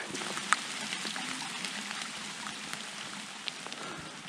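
Steady rain patters on leaves and the ground along a fall hiking trail on the Loyalsock Trail, a soft even hiss dotted with close individual drops and no voices.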